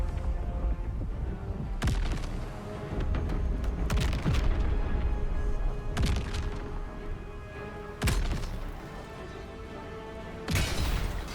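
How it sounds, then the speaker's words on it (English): Repeated explosions boom every couple of seconds over a constant roar of in-game noise and low rumbling in Baldur's Gate 3. "Here comes the explosions."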